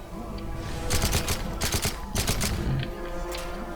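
Rapid bursts of Call of Duty: Modern Warfare 3 gunfire crackle in quick volleys, a few sharp clusters in succession over a low background hum.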